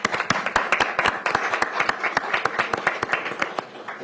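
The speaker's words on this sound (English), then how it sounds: "Let's give them a round of applause." Sparse applause at a council meeting: a small group clapping in distinct, uneven individual claps, close and crisp, carrying on steadily for several seconds.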